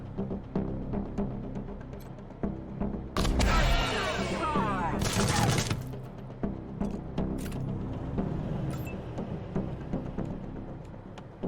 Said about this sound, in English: let's try out that caltrip launcher